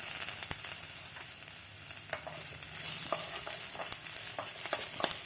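Ginger and spices frying in oil for pulihora, a bright steady sizzle close by with intermittent stirring knocks and scrapes, no voices.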